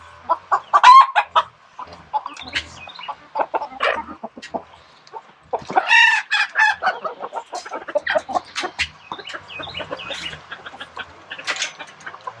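Chickens cluck and squawk inside a coop during farm work, with bursts of close, loud calls and scattered softer clucks continuing irregularly throughout.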